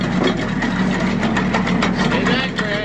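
A newly installed grain grinder's engine runs close by with a steady, busy mechanical clatter and hum, continuous and fairly loud for the whole stretch.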